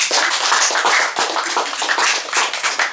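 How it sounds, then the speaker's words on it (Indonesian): An audience in a church hall claps steadily for a newly appointed leader of the Santa Helena spiritual region, a dense, loud patter of many hands with little talk. "Kita tepuk tangan untuk beliau."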